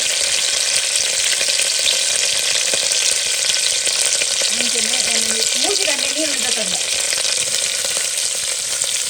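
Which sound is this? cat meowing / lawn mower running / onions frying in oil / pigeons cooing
onions frying in oil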